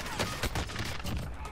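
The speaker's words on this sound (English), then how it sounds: "I'm getting sniped at from this direction" Rapid bursts of gunfire crack from sniper fire in the video game Warzone, several loud shots in quick succession over a dense, noisy game mix, with faint voices underneath.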